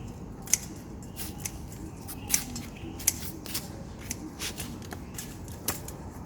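River prawn legs are snipped off with scissors, producing several sharp, close clicks spaced irregularly over quiet room noise with no voice.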